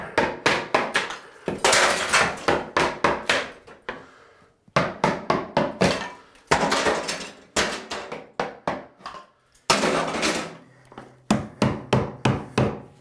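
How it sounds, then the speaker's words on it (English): Ceramic wall tile being knocked and broken off a bathroom wall, loud close bursts of sharp cracking and clattering in repeated clusters with short pauses between them. "when ceramic tile breaks like that, it's not the clay that's dangerous, it's the glaze"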